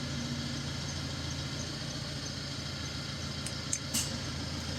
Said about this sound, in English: Hear the change in the engine note, and you can hear the compressor kicking in.